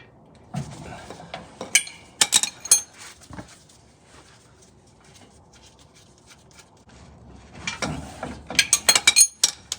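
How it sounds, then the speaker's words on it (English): A 17mm open-end wrench and a breaker bar with a 17mm socket work loose the drive shaft bolts on a 2004-2015 Nissan Titan rear differential, with bursts of ratcheting clicks and metal clinks at the start and end, close up, a quiet pause between. "We're going to be using an open-end 17mm wrench and a breaker bar with a 17mm socket on the other side."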